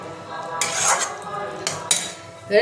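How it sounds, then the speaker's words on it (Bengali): Spices and tomato being sautéed in a pan: a metal spatula scrapes and clanks against the pan in a few loud, close strokes, with a light hiss between them. "এটা আমি কষিয়ে নেবো ভালো করে।"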